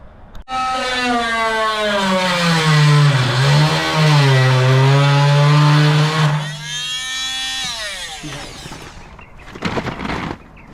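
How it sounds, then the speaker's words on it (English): An oscillating tool cuts off rivets on a classic Ford F100 body panel, a loud close buzzing whine with a sustained pitch that dips and shifts under load, then drops off toward the end with brief clattering. "the reason why we are using an oscillating tool on these is because when these are riveted on"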